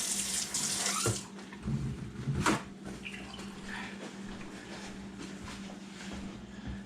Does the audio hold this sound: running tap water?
yes